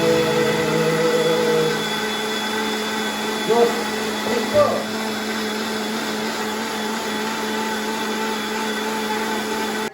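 A mixer grinder runs steadily in a home kitchen, a loud continuous motor whine with a few brief knocks midway, holding nearly constant throughout.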